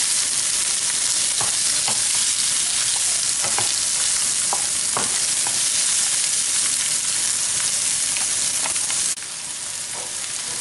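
Peppers and other vegetables sautéing in a pan: a constant loud frying hiss with occasional soft stirring ticks scattered through, no one speaking.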